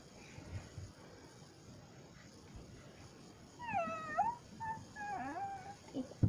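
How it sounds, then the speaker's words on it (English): A dog whines in a few high, drawn-out wavering cries that rise and fall, heard at moderate distance in a quiet room after a stretch of low background hiss. "That's a dog whining"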